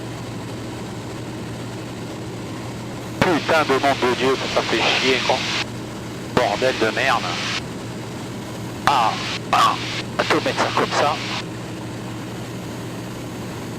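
A small propeller airplane on a flight from Gap toward Avignon drones steadily throughout with a constant low engine hum. Cockpit voices speak over it in several bursts.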